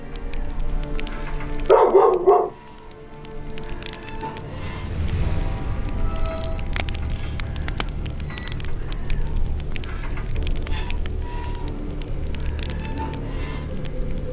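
A dog barks in a short burst of a few loud barks early on, then a quieter crackling, rustling background continues.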